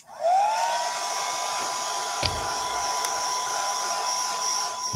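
A hair dryer blowing steadily on a rice paper tissue box coated in wet varnish, starting up at once and holding a loud, constant whirring hum with a couple of small knocks from handling.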